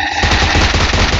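Loud automatic rifle fire from PUBG Mobile rattles in a fast, steady burst of closely spaced shots, close and dominant with no talk.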